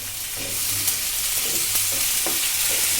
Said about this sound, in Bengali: সেগুলোকে এখন তেলের মধ্যে একটু ভালোভাবে ভেজে নেওয়া হবে তো এখন দেওয়া হচ্ছে রসুন বাটা তার সাথে অ্যাড করা হবে আদা বাটা